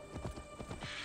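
Horse hooves clip-clop in Assassin's Creed Valhalla, a short quick run of rhythmic hoofbeats, fairly faint over a low game hum.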